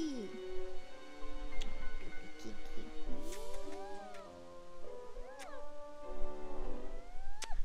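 A seven-month-old female British Shorthair kitten meows again and again in close, clear, rising and falling calls across the whole stretch.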